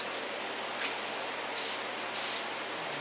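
Aerosol paint can spraying a reddish coat onto a broken motor mount area in short bursts, close and fairly soft, with steady background hiss between sprays.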